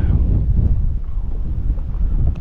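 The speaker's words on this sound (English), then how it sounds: "I'm letting the wind push me down this bank." Strong wind buffets the microphone with a loud, constant low rumble while a boat drifts down a bank during redfish fishing.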